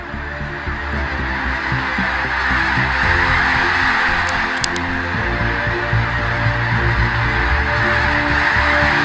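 Migratory water birds, including ducks, call across a lake in a continuous chorus of honking and chatter over a steady low hum, with a few brief sharper notes in the middle, no talking.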